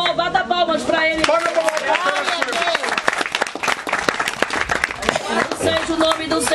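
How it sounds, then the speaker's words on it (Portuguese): A church congregation in Boane, Mozambique claps loudly and steadily in a sharp, dense rhythm, while voices sing and call out over the clapping throughout. "Oh, bata palmas para Ele."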